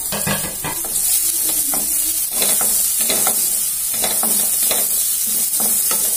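Onion, capsicum, green chilies and chili flakes for pasta sizzle loudly and steadily in a pan, close up. Repeated scraping stirs and soft clinks come at a regular rhythm over the hiss, with no talking.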